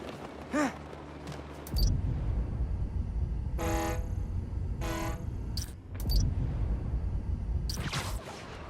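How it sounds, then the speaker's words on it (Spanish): A ferry horn sounds in the video game Spider-Man: Miles Morales as two loud, sustained blasts. They come over a rumbling city background, with shorter tonal honks in between. "Tiene que ser el ferry. Necesito acercarme lo suficiente para grabar esa bocina."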